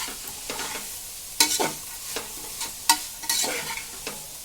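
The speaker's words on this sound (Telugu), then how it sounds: "ఇదిగోండి శనగపప్పు వేసేస్తున్నాను. శనగపప్పు కూడా ఒక తిప్పేసుకుందాం." A spoon stirs chana dal frying in a pan for a cabbage dal curry, giving a steady sizzle broken by several sharp scraping strokes against the pan, close and clear with no talking.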